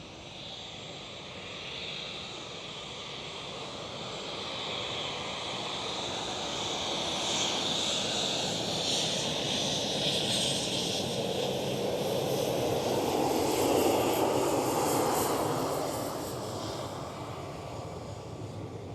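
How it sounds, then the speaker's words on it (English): KLM Cityhopper Embraer E190 jet airliner at Schiphol Airport in Amsterdam, a steady distant roar that slowly swells and fades again over nearly twenty seconds, with no talking. "And the KLM City Hopper E190."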